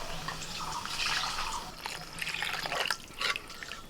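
Water being poured into a cooking pan of potato and spices, a quiet continuous splashing and trickling with soft bubbling, fairly faint and heard without voices.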